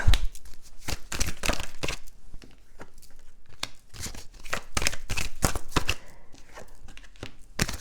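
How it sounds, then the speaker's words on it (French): Tarot cards are shuffled by hand close up, a rapid run of crisp riffles, slaps and papery flutters in uneven bursts, with some cards springing loose from the deck. "Je me suis fait surprendre par les cartes qui sautent là, comme ça"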